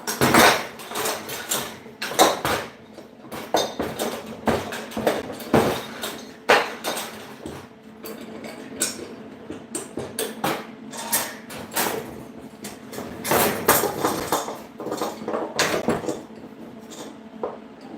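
Two pieces of aluminium box iron being clamped in a metal workshop: a long run of close metallic clanks, taps and scraping knocks at irregular intervals, fairly quiet overall with no talking.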